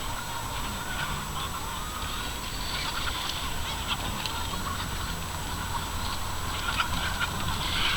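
About 5,000 chickens crowd together at feeding time on an organic farm, making a dense, continuous chorus of clucking and squawking that holds steady throughout, with no talk.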